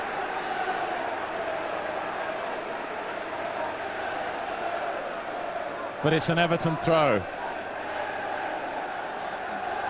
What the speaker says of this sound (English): Goodison Park is absolutely alive. I haven't heard the crowd like this for a long, long time.